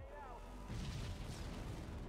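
A grenade blast in the real-time strategy game Halo Wars: a deep, rumbling boom erupts partway through and rolls on through the rest, following a brief stretch of quieter battlefield ambience.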